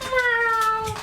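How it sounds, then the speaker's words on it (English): A cat yowls outdoors during a fight, one long, loud, sustained wailing cry with bright harmonics that holds steady for about a second before breaking off. "There's a cat screaming."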